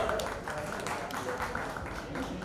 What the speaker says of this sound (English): can I have a huge round of applause for him, guys?